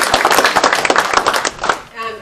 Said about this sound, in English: we should give them a great big round of applause